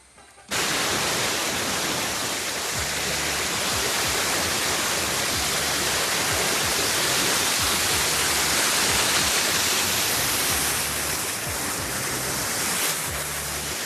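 Water from a hidden monsoon waterfall roars as a steady, broadband rush that stays loud and constant throughout, with no talking.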